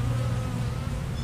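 Honeybees buzz at hives being split, a dense, continuous drone of many insects close by, steady and fairly loud through the short moment.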